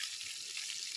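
A fish head fries in oil with a soft, steady hiss and fine crackle, faint and even for a brief moment, with no voices.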